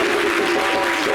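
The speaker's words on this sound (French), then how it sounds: "Il n'y a que les garçons qui applaudissent." Audience applause from young boys at a summer holiday television show, a steady, dense patter of clapping with no talk over it.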